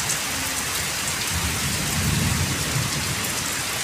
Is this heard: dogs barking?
no